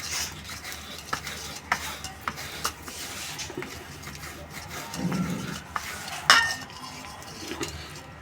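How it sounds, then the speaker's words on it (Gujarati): Hard dry ginger rubbed against a grater to make powder, a run of close rasping scrapes with small taps and one sharper metallic knock near the end. "એના આ રીતે છીણવાથી સરસ એનું ભૂકો થઈ જશે"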